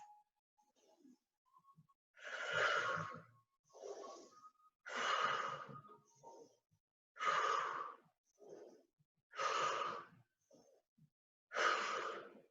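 Six strong, deep breaths are taken during a yoga breathing exercise, each a loud, close, forceful rush of air, evenly spaced and separated by quieter gaps.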